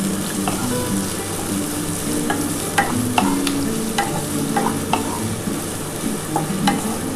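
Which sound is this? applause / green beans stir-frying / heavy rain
green beans stir-frying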